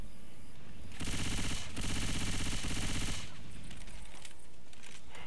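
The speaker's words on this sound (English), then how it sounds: "Can you stop shooting me?" Gunfire in Left 4 Dead 2, a rapid burst of automatic shots lasting about two seconds with a short gap in the middle, loud and close, trailing off into quieter game ambience.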